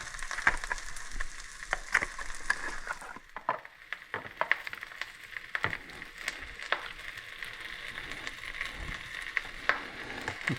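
Radicchio sears in a pan, a quiet crackling sizzle broken by irregular sharp pops and spatters, fairly close and with no talking.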